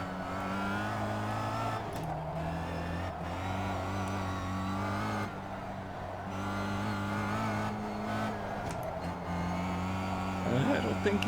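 Race cars hold steady, droning engine notes as they race, close and loud throughout, with occasional shifts in pitch and someone talking over them.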